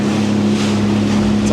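A Sea-Doo personal watercraft holds about 4,000 RPM against a moving river current near a bridge, its engine a steady, close droning hum with wind rushing over it.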